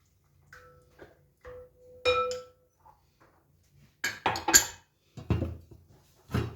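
A spoon clinks and scrapes against a bowl while 5 grams of dry yeast are mixed thoroughly into a dough mixture, giving scattered close taps followed by a busier burst of clattering stirring.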